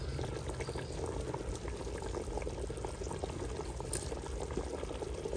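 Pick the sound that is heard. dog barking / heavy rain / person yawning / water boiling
water boiling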